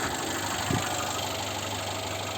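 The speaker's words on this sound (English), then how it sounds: "Engine running all good." A 2018 Mercedes-Benz A160 W176 with a 1.6 petrol engine idles steadily, giving a close, even mechanical hum with a faint knock and no voices.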